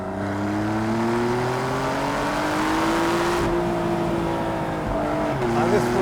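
Porsche 911 Carrera GTS flat-six engine revving loudly close up, pitch climbing steadily then dropping and rising again on downshifts, with a continuous strong drone throughout.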